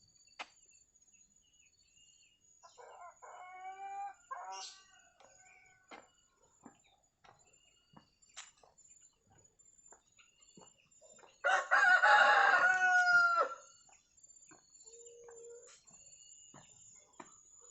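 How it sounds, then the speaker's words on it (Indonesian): Chickens clucking and a rooster crowing loudly in a coop, with insects chirping faintly in the background between calls. "suara ayam di kandangnya, di kandang ayam"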